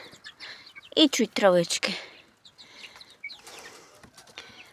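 Chickens cluck nearby in short bursts while a person talks briefly over them, followed by quieter scattered clucks, young chicks in an outdoor enclosure.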